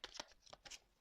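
Oracle cards drawn from a deck during a tarot-style reading, a few quick papery slides and flicks in about a second, close and fairly soft, with no talk over them.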